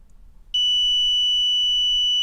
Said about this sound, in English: We hear an audible beep, so that means we do have continuity.